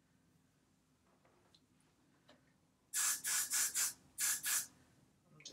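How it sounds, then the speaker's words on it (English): A spray bottle squirts in quick bursts, about six sharp hissing pumps close by, after a quiet stretch with a faint spoken word. "I'm just gonna spray them and get them good and wet."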